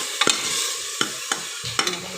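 Onion, garlic and pepper sizzle in a little oil for trotter soup, a steady close hiss broken by a few sharp stirring scrapes and clicks; no one speaks.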